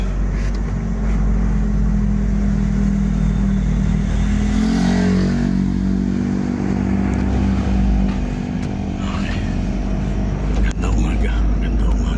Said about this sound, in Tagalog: Paunahin na natin yung motor na yan.